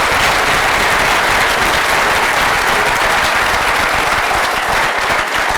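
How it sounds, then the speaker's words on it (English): Loud, dense applause from a conference audience at the AGSM Conference 2014, a steady wall of clapping that holds without letup for the whole stretch. "So can I just have a round of applause for Trevor again?"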